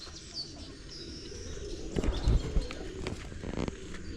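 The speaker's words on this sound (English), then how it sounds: "my pigeons are here, they are enjoying" Domestic pigeons kept at home make soft cooing and fluttering sounds amid outdoor background noise, with some louder rustling and thumps partway through; no talking.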